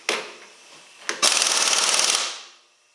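Urceri compact cordless impact wrench on power setting 3, sounding off in a short trigger pull and then a loud sustained burst of rapid hammering clatter that fades out, with no talking.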